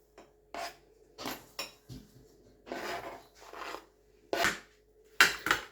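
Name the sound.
mixing brinjal cutlet mixture in a bowl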